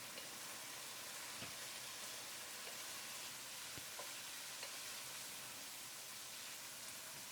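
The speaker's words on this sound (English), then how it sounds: "fry them on high heat for 3 to 4 minutes" Chicken fries on high heat with spices, giving a steady, dense sizzle throughout with a few faint stirring clicks, quiet and continuous with no voices.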